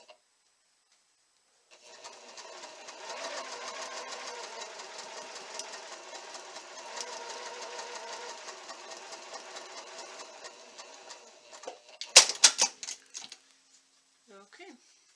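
A sewing machine hums in a long continuous run while stitching quilt block pieces held together by hand, ending with a few brief clatters and a quiet pause.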